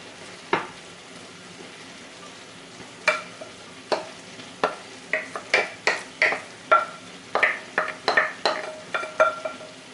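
A spoon scrapes and taps against a heatproof baking dish in a quick series of short, close clinks and soft scoops as apples are spooned in, with no voices.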